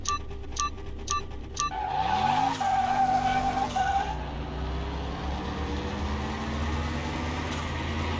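Race cars roar and skid in the Car Mechanic Simulator 2021 video game, a Civic facing a turbo rival, opening with a few sharp beeps before the engine climbs through gear shifts and tires squeal briefly, then the engine drones on steadily.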